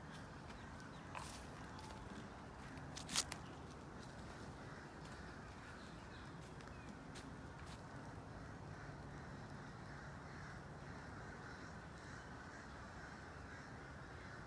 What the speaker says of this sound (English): Those are birds. You ever heard birds like that?